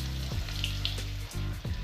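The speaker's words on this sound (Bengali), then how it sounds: "এবার আলুগুলো একটু ভেজে নেবো," Potatoes frying in hot oil for a winter fish curry, a steady close sizzle with soft stirring scrapes now and then and no voices.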